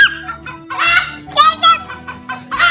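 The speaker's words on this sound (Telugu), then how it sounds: "కుక్కర్ అంటున్నాయి కోళ్ళు" Chickens clucking near a Hanuman temple, several birds calling in quick, overlapping bursts that come close and loud, with a few brief pauses between outbursts.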